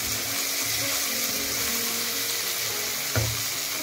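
Tomatoes frying in a pan until soft, a dense continuous sizzle close up, with a single brief knock near the end.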